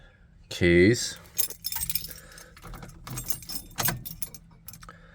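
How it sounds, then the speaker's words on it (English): A bunch of car keys for an LS-swapped Cuda jangles loudly and close, with a sharp burst of metallic clinking followed by lighter rattles while a person talks. "Oh, keys."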